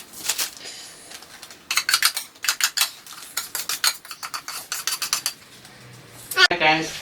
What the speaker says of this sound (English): I'm going to use a spoon.